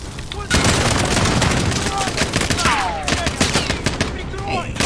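Machine gun fire in the video game Call of Duty, dense rapid bursts starting abruptly and continuing loud and near for several seconds, with voices shouting underneath.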